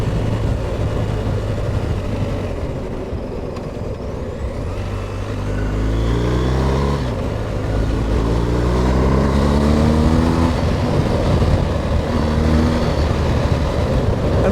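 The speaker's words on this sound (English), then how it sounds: "And the engine has a better tone." A BMW R1250GSA motorcycle engine drones steadily while riding, a loud low hum with rising pitch sweeps as it accelerates through the gears, mixed with wind rush.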